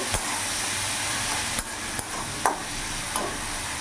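Spices stirred into katla fish curry in a sizzling pan, a constant frying hiss with a few distinct spoon scrapes and clacks against the pan, no talking.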